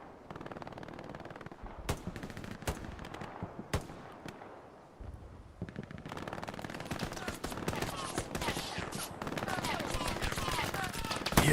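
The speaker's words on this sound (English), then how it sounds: "dodging a whole bunch of MG42 round" Rapid bursts of MG42 machine gun fire crackle through a Hell Let Loose battle, dense and sustained with sharp individual shots over constant combat noise, some close and loud, others further off.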